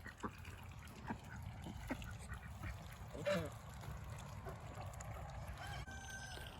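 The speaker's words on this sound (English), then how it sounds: "the ducks have been playing in the puddles" Ducks splash and play in farm puddles, giving faint intermittent quacks and soft watery sounds at a distance under low outdoor background noise.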